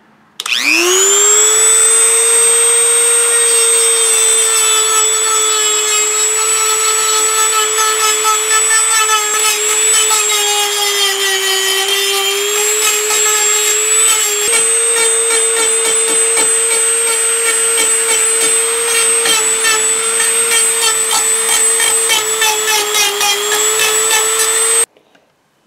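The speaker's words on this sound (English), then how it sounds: "I used the Dremel and I rounded both sides of this" A Dremel rotary tool rounds the edges of a wooden handle for a relic sifter, a loud high-pitched whine that spins up sharply and holds steady for over twenty seconds with slight pitch dips under load, then cuts off.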